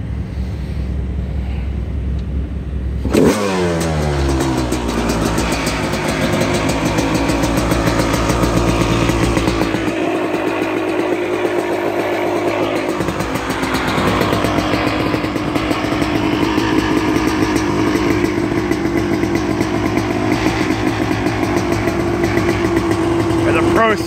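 A freshly rebuilt 2001 Honda CR250R two-stroke dirt bike with a Circuit 304 silencer and V43 reeds kicks to life after a low rumble, then revs up and holds a loud, buzzing, crackling idle close to the microphone.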